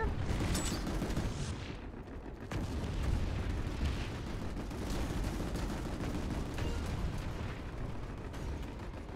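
Gunfire aimed at a bunker in Planetside 2 makes a dense, continuous barrage of crackling shots and heavy booms. It fills the whole stretch with only brief dips in intensity.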